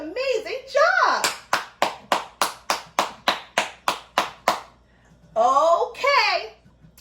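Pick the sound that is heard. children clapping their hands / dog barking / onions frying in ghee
children clapping their hands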